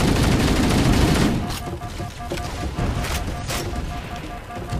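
Dense sustained gunfire and explosions in Halo CE Anniversary, loud and continuous at first, then continuing as scattered rapid shots and bursts amid battle noise, with no talk.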